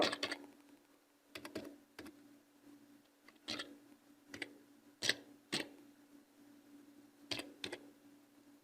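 Bursts of keystrokes on a computer keyboard, clustered taps with short pauses between them, close and fairly quiet over a steady low hum.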